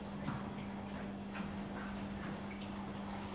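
Close-up rhythmic crunching and soft thuds of a horse eating, with a steady low hum underneath and faint scattered knocks throughout.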